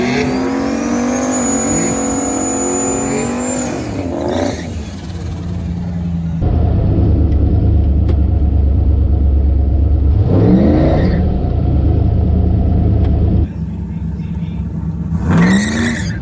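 A junkyard 6.0 LS drag car with a GT45 turbo makes a foot-brake launch: a loud, close engine roar climbs through several sweeping rev rises and shifts, then settles into a heavy idle before revving again.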